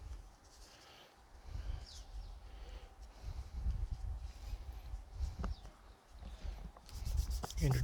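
Guitar frets are rubbed with 800 grit sandpaper in a steady run of quiet, close scratchy strokes during a refret, with a faint knock or two in between.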